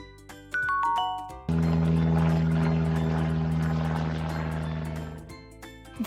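A propeller airplane in a children's vehicle-sounds quiz drones with a loud, steady engine hum and whirring blades for several seconds, preceded by a short chime and fading out at the end.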